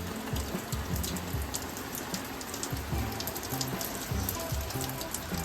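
Heavy rain pours down continuously, a dense drumming wash with occasional louder drops hitting nearby surfaces.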